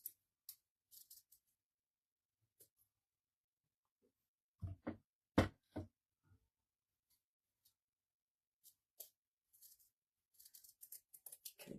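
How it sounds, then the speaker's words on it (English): Fabric scissors snip through material for a spring bunny craft, leaving sparse, faint, crisp cuts. They come singly and in short clusters with quiet gaps, close up and alone. "Use my fabric scissors."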